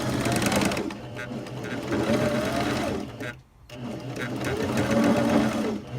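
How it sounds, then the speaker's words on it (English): A sewing machine stitches across fabric for a bow pillow, a loud close steady whir of needle strokes that runs almost without a break, pausing briefly midway before starting up again. "I'm going to go on this side, and I am going to sew it across"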